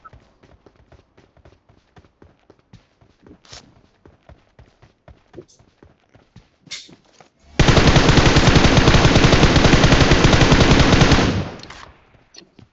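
Enemy gunfire in the BGMI video game, with scattered sharp shots and footsteps, then a dense loud burst of sustained automatic fire lasting several seconds before it drops away.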